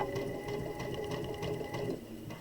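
A sewing machine stitches elastic onto a fabric face mask, running at a slow, steady pace with a continuous whirring hum and a rapid needle clatter close by, easing off near the end.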